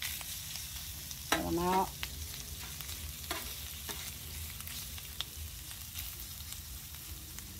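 Shrimp coated in a touch of soy sauce and olive oil sizzle on a hot griddle, a faint steady frying hiss with brief clatters of a utensil and a short spoken comment.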